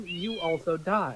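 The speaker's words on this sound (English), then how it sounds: "Is that a cat?" A tiny, angry cat lets out several short, high-pitched meows in quick succession, close and clear, while a person speaks over them.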